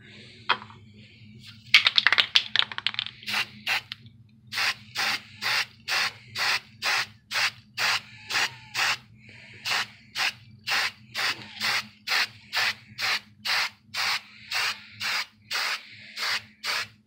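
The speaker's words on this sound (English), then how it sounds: "I'm going to go ahead and finish spraying the whole thing" Primer coat being spray painted onto a Batman cowl: a few irregular hisses at first, then a long run of short, even spray bursts repeating at a steady rhythm, close and clear.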